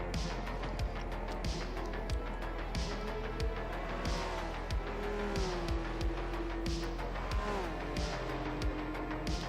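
A GR1 race car drives in Gran Turismo 7, its engine a steady droning tone that rises and falls with gear changes, over a regular ticking pulse and constant background hum.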